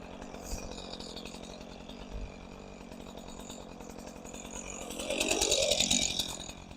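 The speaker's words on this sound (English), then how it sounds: "That's why you buy a steel chainsaw right there." A steel chainsaw idles steadily as it warms up outdoors, its engine running as a continuous buzzing drone that swells louder near the end.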